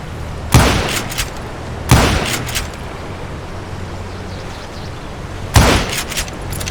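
Three loud, sharp rifle shots from the Western shooter game Call of Juarez: Gunslinger ring out at about 0.5, 1.9 and 5.6 seconds, each followed by a short decaying tail, with quiet game ambience between them and no talk.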